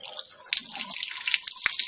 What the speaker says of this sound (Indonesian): Bahan-bahan kita cuci bersih di air yang mengalir ya.